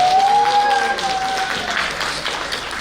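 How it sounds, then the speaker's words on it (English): A convention audience in a hall gives a speaker a round of applause, a dense, steady wash of clapping with voices talking over it and a brief whistle-like tone early on. "let's give the last speaker a big round of applause"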